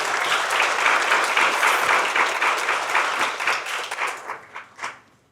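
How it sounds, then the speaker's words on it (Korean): An audience at Seoul National University's College of Natural Sciences 50th anniversary ceremony claps in welcome, a full burst of applause that thins into a few scattered claps and fades out. "박수로 맞이해 주시기 바랍니다"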